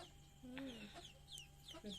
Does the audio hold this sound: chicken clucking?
yes